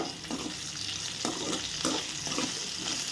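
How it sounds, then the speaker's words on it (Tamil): Okra sautéing in oil in a pan gives a close, steady sizzle broken by regular scraping stirs roughly every half second. "இதை ஆயிலே நல்லா வதக்கி எடுத்துக்குவோம் இந்த வெண்டைக்காயை"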